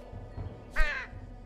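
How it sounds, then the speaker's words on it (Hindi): A cartoon crow lets out a single raspy caw, short and fairly clear, over a low background hum in an animated treasure-island adventure. "मेरे कौवे पर भरोसा रखिए, मैं इसे कई सालों से सिखा रहा हूँ।"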